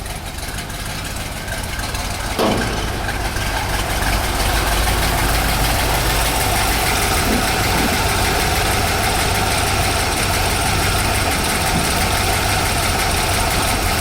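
Lumpy, loping idle from the exhaust of a 1964 Corvette 365hp, a rhythmic uneven rumble held close and loud throughout, with a brief clank early on and no speech.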